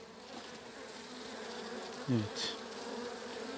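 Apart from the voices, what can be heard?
honey bees buzzing in a weak hive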